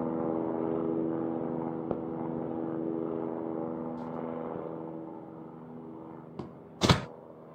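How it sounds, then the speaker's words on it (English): An airdrop aircraft in the mobile shooter Call of Duty Mobile drones steadily, a broad engine rumble that holds near and loud, then fades slightly, with a sharp burst of game noise near the end. "The airdrop is coming."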